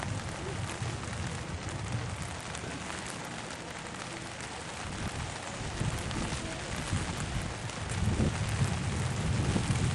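Steady rain falls on a surface outdoors during a demonstration in Shropshire, a dense continuous hiss with gusty wind noise on the microphone that swells slightly toward the end, with no talking.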